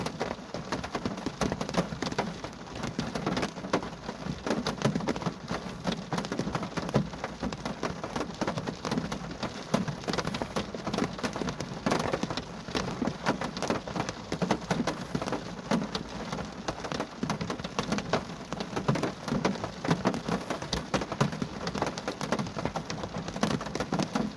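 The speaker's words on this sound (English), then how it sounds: "Feels like the rain's getting heavier." Heavy rain pours continuously on a graveyard at night, a dense crackling patter on surfaces, loud and unbroken, with no voices.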